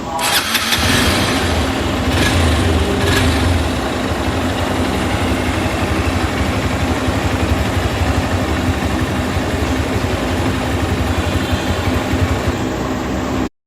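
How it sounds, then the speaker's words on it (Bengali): A Honda Hornet 2.0 motorcycle starts up and then idles, its exhaust giving a steady, loud, even rumble that continues close by for over ten seconds with no one speaking. "এ হলো এর এক্সস্ট সাউন্ড"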